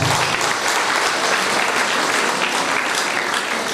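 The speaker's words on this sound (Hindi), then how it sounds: "उनके लिए जोरदार ताली चाहूंगा" Audience at a business meeting breaks into loud, dense, continuous applause that holds steady throughout, with no talk over it.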